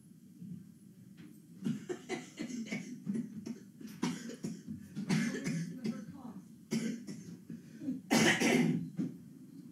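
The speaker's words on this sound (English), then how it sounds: "Who would have ever thought we'd be excited to hear coughing?" Repeated coughing and throat clearing in bursts, several people close by, with a harsh loud cough near the end; talking mixes in between.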